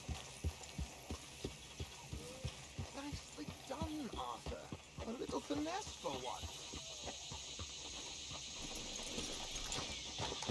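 Horse hooves clip-clop at a steady walking rhythm in the Red Dead video game, moderately close, under ongoing talk and background game music.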